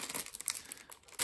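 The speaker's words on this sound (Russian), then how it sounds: "Пакет." A plastic bag from a Lego Classic 11014 set crinkles in quick, faint, close bursts of rustling.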